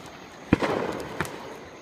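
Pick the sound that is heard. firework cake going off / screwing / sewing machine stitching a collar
firework cake going off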